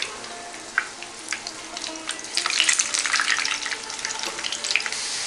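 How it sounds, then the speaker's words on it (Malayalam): Eggplant skins deep frying in oil for a chicken Arabian maklouba, a crackling, bubbling sizzle that grows louder and busier partway through, with no talking. "ഇനി നമുക്ക് എഗ് പ്ലാന്റിൻ്റെ സ്കിന്നൊന്ന് ഫ്രൈ ചെയ്തെടുക്കാം."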